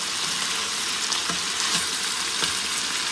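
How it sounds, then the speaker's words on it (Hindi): Persian kebabs frying on a tawa give off a dense, even sizzle that stays close and steady, with a few soft bubbling pops and no voices. "ये सारे कबाबों की हम लोगों ने साइड चेंज कर दी है।"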